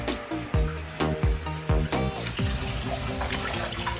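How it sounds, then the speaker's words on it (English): Tap water pours into a baby bath seat, a steady splashing flow with several knocks and clunks of handling near the sink or tub early on, then continuous filling. "We're gonna start filling up the seat now."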